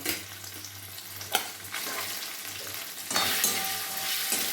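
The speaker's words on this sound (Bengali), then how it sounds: "একই ঘিয়ের মধ্যে আমি পনিরগুলো ভেজে নেব" Paneer fries in ghee in a pan, a faint continuous sizzle broken by occasional scraping and clinks of stirring.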